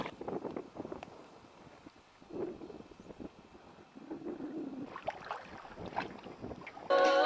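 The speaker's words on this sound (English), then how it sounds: "Because Rex is paddling and I'm not" A sea kayak paddled through water off Kangaroo Island in wet weather, with soft rhythmic splashes and wash over steady wind rumble, fairly close, and a brief louder burst of water or wind at the end.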